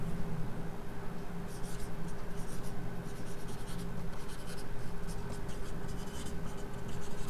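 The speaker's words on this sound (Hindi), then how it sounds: "तो यहां हम लिखते हैं" Chalk or marker scratches steadily on a board during a lesson on the Chand dynasty's administration, a continuous close scraping texture under a low room hum.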